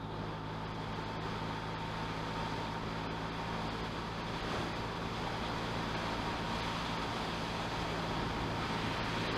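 Motorcycle on the road: a steady roar of wind and road noise over a low, constant engine drone, continuous and unbroken for the whole stretch, with no speech.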